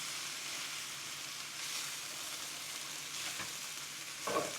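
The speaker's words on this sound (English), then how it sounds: "I think I'm just gonna use my tongs so I can just toss it" Beef strips for Mongolian beef frying in a pan and tossed with tongs, a steady soft sizzle with a few light scrapes near the end, close and fairly quiet with no talking.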